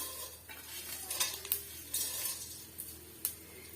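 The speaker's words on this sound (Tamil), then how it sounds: "இது ஒரு நிமிஷத்துக்கு நம்ம வதக்கி விட்டுக்கலாம்" Soft crackling sizzle of whole spices frying in hot oil over a medium flame for chicken gravy, with occasional scrapes and clinks of a spoon stirring in a pan, fairly quiet.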